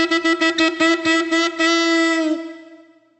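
A shofar ram's horn plays the teruah, a quick run of about nine short staccato blasts followed by a longer held tone that tapers away, close and prominent with no talking.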